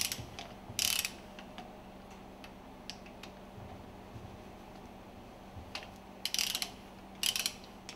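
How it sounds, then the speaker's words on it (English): Screws being loosened and removed from a fuel pump plunger and barrel assembly during a cover overhaul; a close, ratcheting tool makes short bursts of clicking, with faint light taps between them and a low steady hum underneath. "Loosen and remove the screws from the plunger and barrel assembly."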